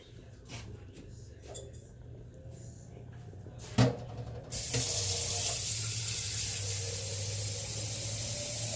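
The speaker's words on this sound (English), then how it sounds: "I need to put 3 quarts of water in my Presto." Cold tap water runs into a Presto pressure canner in a home kitchen while chicken chili is being canned. A single clunk comes first, then a loud, steady rush of water fills the rest of the clip with no talking.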